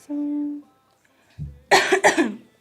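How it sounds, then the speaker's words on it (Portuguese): A short burst of two or three harsh, close coughs from one person, after a brief hum and a low thump, with silence in between. "Perdão pela tosse."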